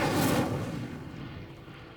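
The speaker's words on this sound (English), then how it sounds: "The flames make the pyre sink." A burst of flame and a deep rumble as a lit pyre sinks in Hogwarts Legacy on PS5, starting loud and fading away over two seconds with no voices.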